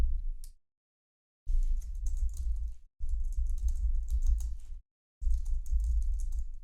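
Bursts of rapid clicking keystrokes on a computer keyboard while entering subtitle text, three long runs of typing separated by short pauses, close and alone.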